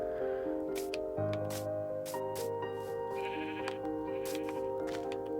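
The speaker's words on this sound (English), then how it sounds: "That sheep is going crazy." Sheep in the Minecraft video game bleating again and again, loud and close over steady game background music, with no talking.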